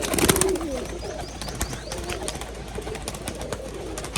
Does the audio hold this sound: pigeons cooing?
yes